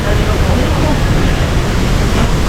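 Loud, constant roar of strong wind buffeting the microphone, a dense rumbling rush with no pauses.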